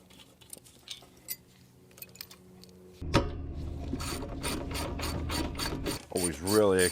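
A ratchet wrench clicks rapidly and loudly in a close, steady run while loosening a spark plug on a twin-turbo airplane engine, after quieter scattered tool taps, ending with a brief metallic scrape.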